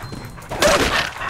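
Dogs bark in Fallout 76 during a machete fight, giving one or two sharp, close barks over background game noise in a brief burst.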